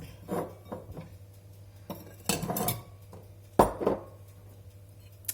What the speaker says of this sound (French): on touille-touille, on touille-touille à la main, toujours